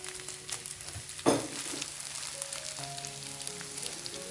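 Chicken pieces stir-frying dry in a pan without added water, a steady close sizzle with a brief louder clatter of stirring near the start, no voices.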